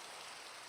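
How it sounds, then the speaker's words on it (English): Steady rain falls in a dense, even hiss of drops on surfaces, close and constant throughout with no voices. "what a beautiful, beautiful rainy day"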